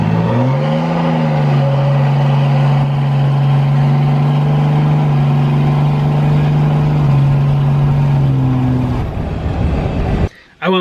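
6.7 Cummins diesel with the EGR deleted and a tune idles in a steady, close, loud drone after a brief blip at the start. The idle cuts off near the end.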